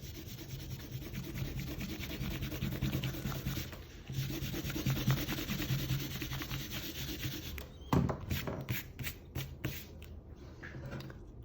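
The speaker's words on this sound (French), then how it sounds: "on peut gommer nos traits de construction" An eraser rubs out pencil construction lines on paper while an emoji drawing is being made. Close, steady back-and-forth scrubbing continues throughout, with a brief pause near the four-second mark and a few sharper strokes toward the end. No one speaks.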